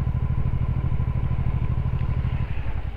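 Motorcycle engine running while riding in the rain on an evening road, a steady throbbing pulse close and loud throughout, with no talk.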